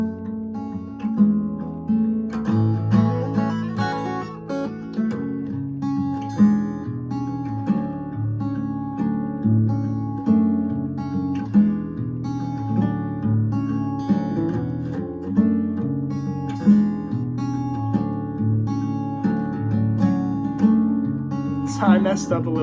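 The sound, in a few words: acoustic guitar playing the whole song part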